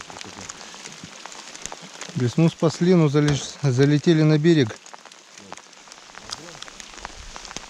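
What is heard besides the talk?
rain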